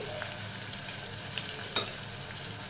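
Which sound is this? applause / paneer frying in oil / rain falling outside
paneer frying in oil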